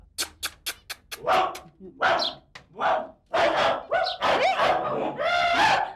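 A voice imitates a dog's barking: several sharp, quick barks at the start, then longer yelping, whiny sounds, close and fairly loud.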